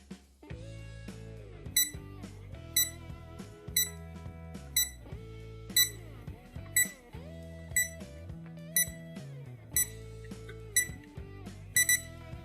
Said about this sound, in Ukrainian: Тепер активую будильник і послухаємо, яку мелодію він має.